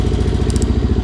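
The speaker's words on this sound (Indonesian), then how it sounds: "Nah, beda kan suaranya jadi ngebas." Motorcycle idling with a cheap aftermarket exhaust switched to its no-silent position, giving a deeper, bassier close, loud pulsing rumble throughout this short moment.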